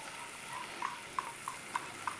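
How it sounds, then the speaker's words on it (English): Onions fry gently in butter in a pan over a flame, giving a faint, quiet sizzle with a few small crackles and pops scattered across about two seconds. "Get a flame on, and we're going to fry off our onions"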